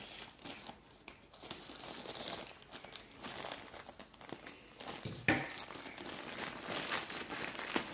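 A mail-order cross-stitch parcel being opened by hand without cutting, with close crinkling and crumpling of plastic packaging, steady and fairly quiet, with one sharper tear or snap midway.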